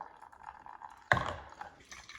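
Hot water poured over a pour-over coffee filter to wet it and warm the brewer, a sudden splashing onset after a quiet lead-in, then a steady nearby trickle that tapers off.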